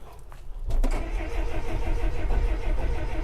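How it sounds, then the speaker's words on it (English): A loader's diesel engine cranks in the cold, then catches at about 0.7 seconds and settles into a loud, steady, close running rumble. "let's see if the loader starts. It usually starts pretty good when it's cold."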